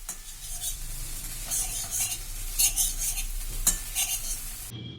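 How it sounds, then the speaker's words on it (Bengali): Noodles being stirred with their spice mix in a pan, a steady scraping and clinking of utensil against metal over a faint sizzle, continuous and close. "এই নুডলসের সাথে যে মশলাটা ছিল সেই মশলাটা এখন আমি দিয়ে দিচ্ছি তো অল্প একটু নেড়ে চেড়ে এটাকে আমি এখন নামিয়ে নেব"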